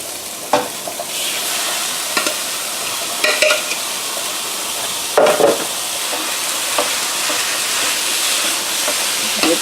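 Ground meat being stirred into sautéed mushrooms and onions in a hot pan, a steady sizzle broken by occasional scraping strokes and clanks of the spoon, fairly close, with no talking.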